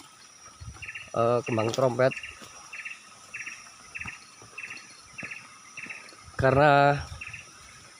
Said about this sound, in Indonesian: suara-suara burung-burung seperti inilah yang kita kangenin waktu saat pendakian